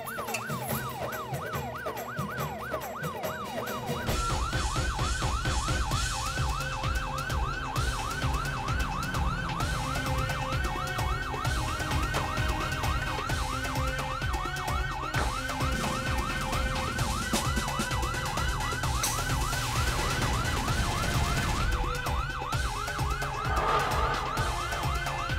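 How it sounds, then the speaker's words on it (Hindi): Police siren wailing continuously in a rapid repeating up-and-down pattern, loud and close, starting after a brief quieter lead-in and holding for over twenty seconds with no talk. "पोपटलाल को लगा है पुलिस का सायरन सुन के"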